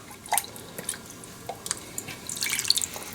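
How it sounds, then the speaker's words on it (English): Water thrown into a cooking pan and swirled to loosen the browned bits after a mushroom chicken dish. Quiet, scattered drips and small splashes sound close by with no talking. "Throw some water in it. Give it a nice swirl."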